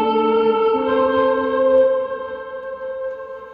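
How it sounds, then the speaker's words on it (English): Electric guitar played through a Source Audio Nemesis pedal set to reverse delay, loud sustained notes that swell in backward and ring with layered echoes before slowly fading. "this reverse delay function that takes what you play and plays it"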